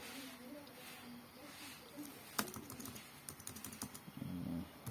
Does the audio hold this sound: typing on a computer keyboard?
yes